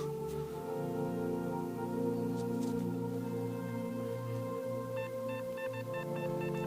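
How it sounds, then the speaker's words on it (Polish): A metal detector sounds a clean, completely steady signal tone while digging in the Kłodzko Valley, a continuous held pitch lasting the whole stretch, with faint beeping pulses joining near the end. "Jest tutaj następny fajny sygnał, naprawdę bardzo czysty i tym razem całkowicie stały"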